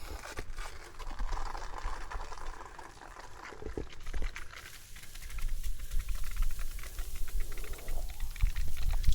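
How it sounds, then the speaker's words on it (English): Water gushes out of a camper's hose and carbon filter at a campsite for the first time, a continuous splashing flow with patters and crackles that grows louder toward the end. "Now watch the water that comes out of here for the very first time."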